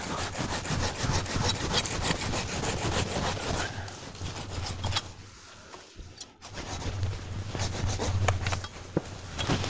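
A hand saw cuts through an old apricot branch during autumn pruning, in steady back-and-forth strokes, pausing briefly midway before the rhythmic rasping resumes, close and fairly loud.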